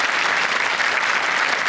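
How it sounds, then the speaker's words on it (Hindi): A studio audience at a quiz show applauds to welcome a guest, a dense, continuous wash of loud clapping with no pauses. "बहुत बहुत स्वागत आपका तालियों के साथ"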